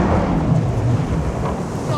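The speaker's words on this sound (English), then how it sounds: "it's been chucking it down with rain with intermittent thunderstorms" Heavy rain pours down during an intermittent thunderstorm, a steady loud wash of rainfall with low rumbling underneath, recorded outdoors with wind buffeting the microphone.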